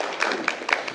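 Group applause from a small cast at the end of a script reading for the musical King David: a brief patter of clapping hands at close range, with a few sharper claps standing out.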